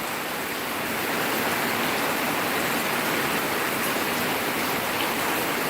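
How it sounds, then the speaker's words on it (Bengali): Steady rain pours down, a dense, even wash of close hiss with no pauses or distinct drops standing out. "এত সুন্দর একটা বৃষ্টি দিল আমাদের"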